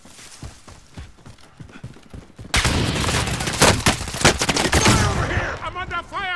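Heavy video-game gunfire from Call of Duty Warzone erupts suddenly after a quieter stretch of footsteps and movement, with loud, dense overlapping bursts of shots continuing to the end.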